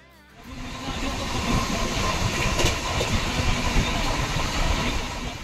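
The Chakradharpur TIG Express, running between Howrah and Ghatsila, rumbles steadily from the start, heard from inside with a loud continuous roar and faint rhythmic rattling of the wheels.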